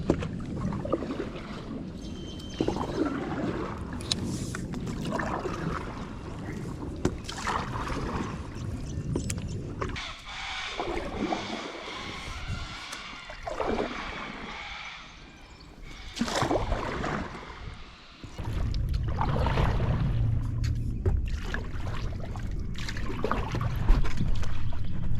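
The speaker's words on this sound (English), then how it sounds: "I've been paddling for ages now." Stand-up paddleboard on the Swan River, heard up close as the paddle strokes and dips in a steady rhythm. Water splashes and trickles around the board, with wind rumbling underneath.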